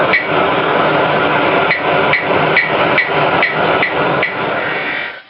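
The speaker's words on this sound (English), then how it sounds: "I'm just going to beat the end down just to work it out nice and thin" Repeated sharp hammer blows ring out on the torch-heated end of a metal blank being thinned for a crook knife, about eight steady strikes close up and loud over a constant hissing roar.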